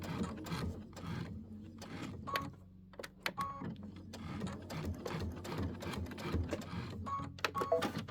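A sewing machine stitching a tack down on dimensional fabric flowers for a wall hanging, running in quick mechanical bursts with brief pauses and clicks, close by, no talking.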